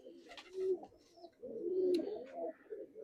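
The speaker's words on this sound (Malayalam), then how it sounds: "ഇതിൽ വന്ന കുട്ടിയാണ് ഈ പ്രാവ്." A pigeon with spotted eye markings coos inside a loft, two soft, low, rolling coos close by with a short pause between, and faint rustles around them.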